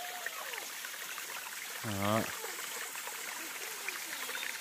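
A river flows through the bottom of a forest valley, a steady broadband rush heard throughout, with a brief spoken phrase partway through.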